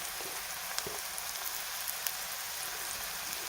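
Onion and potato sizzle steadily in a hot pan for a potato dry-vegetable dish as red chili powder is added, a close, even frying hiss with a few faint clicks and no talking.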